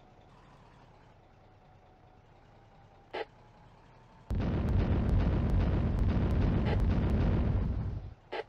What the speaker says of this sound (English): French artillery fire the smoke bombardment.